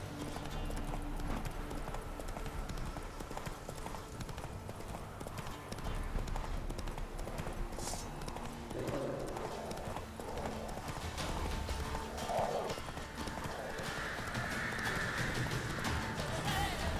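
Horse hooves clip-clop in a steady galloping rhythm from The Witcher 3, with a neigh partway through, over continuous in-game ambience and no talk.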